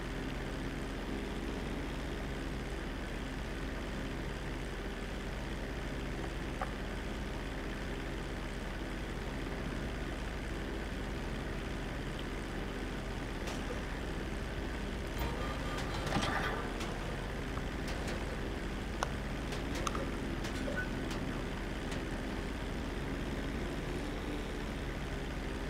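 A propeller plane drones steadily in the video game Grand Theft Auto V, a constant loud engine hum that runs without a break and carries a few faint clicks and bumps.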